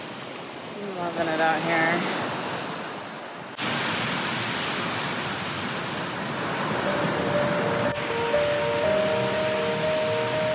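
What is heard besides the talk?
waves at the beach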